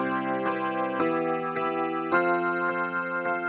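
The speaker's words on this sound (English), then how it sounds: "Here's a clarinet that comes in only in the chorus." A clarinet sustains the chorus chord progression of an indie folk song, each chord held about half a second before changing, in a steady rhythm of clear, solo tones.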